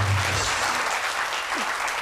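A studio audience at a television comedy show bursts into brief, full applause that stays steady and close for a couple of seconds.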